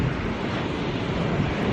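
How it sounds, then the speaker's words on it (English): Blustery wind buffets the microphone on a beach during a rainy fishing session, a steady loud roar with surf washing underneath and no speech. "the wind's picked up quite a bit"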